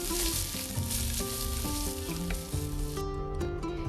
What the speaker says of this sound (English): And now we're going to add our onion. And saute till translucent.